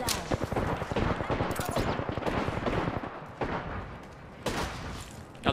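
Rapid gunfire in the Apex Legends video game, dense automatic bursts and single shots crackling loudly through the whole stretch with a voice faintly underneath.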